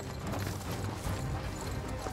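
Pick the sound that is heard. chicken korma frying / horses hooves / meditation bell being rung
horses hooves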